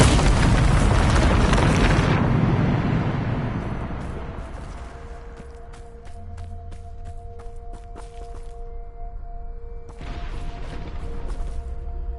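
A Bombarda spell explodes in a Hogwarts wizarding game, a big roaring blast that fades over a few seconds into ringing tones and scattered clattering debris, with a second softer rumble near the end.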